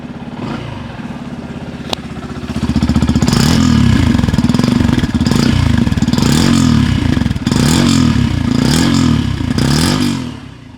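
A Yamaha FZX motorcycle engine cranks, catches and then settles into a loud, close, throbbing run, with a few blips of revving that swell and dip in a regular pulse.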